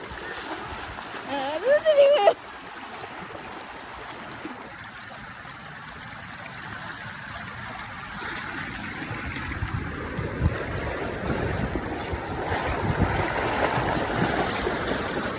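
A dog named Bikoy swimming in water with a current, with a short burst of splashing early on, followed by steady rushing, gurgling water, while voices are heard in the background.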